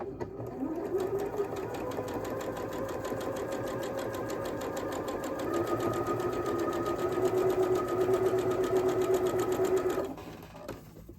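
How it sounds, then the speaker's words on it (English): A sewing machine stitches steadily along a marked line on quilt block fabric, guided by the presser foot, running loud and close in a continuous whirring drone for about ten seconds before stopping. "I'm going to take my presser foot. My presser foot has a guide, and I'm going to run that guide right on that line."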